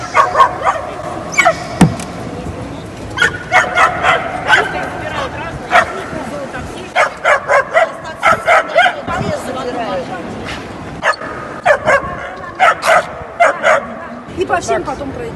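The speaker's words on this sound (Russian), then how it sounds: "Моя собачка." A small dog barks and yips in quick, high bursts, sometimes in rapid clusters and sometimes with whimpering between them. A voice talks faintly underneath now and then.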